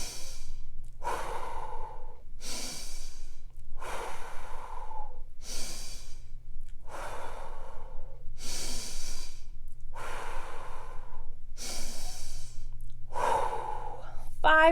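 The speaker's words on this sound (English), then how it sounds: "when you're breathing, breathe into your belly" Slow, deep belly breathing in a children's exercise: about seven regular, audible inhale-exhale cycles, evenly spaced over a steady low background hum, with no talking.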